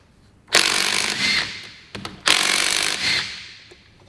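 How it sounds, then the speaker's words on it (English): An impact gun removing bolts from an outboard motor during a timing belt replacement, fired in two loud bursts of about a second each, close by, with a short pause and a few small clicks between them. "I'm going to use an impact gun to get these off."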